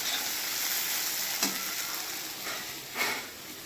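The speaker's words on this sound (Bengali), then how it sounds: "এদিকে এখনো ঢেঁড়স ভাজাটা হচ্ছে।" Okra frying in a pan on a gas stove gives a steady, loud hiss and sizzle throughout, broken by two brief scraping stirs, with no talking.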